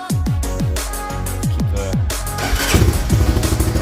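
A Honda Fourtrax quad's engine cranks over in a rapid series of starter strokes, catches and settles into a loud, close, steady running chatter.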